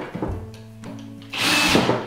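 A power drill with a driver bit drives screws into a joint held by a Kreg 520 Pro pocket-hole jig and clamp. It gives a short motor whir, a pause, and then a louder burst, all heard close up.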